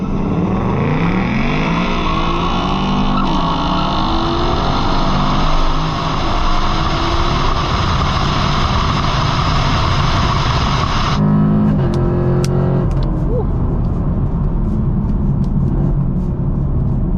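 A bone-stock Ford Mustang GT with a 10-speed transmission races a Chevrolet Camaro SS: loud, sustained engine roar with a steady droning tone that cuts off abruptly partway through, leaving lower rumbling and scattered brief noises.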